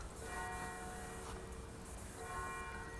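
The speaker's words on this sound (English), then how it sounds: "Now we've got the church bells going." Church bells ring steadily at All Saints church in Wickhambrook, Suffolk, their tolling heard from a distance in the churchyard as a continuous, resonant wash with no voices.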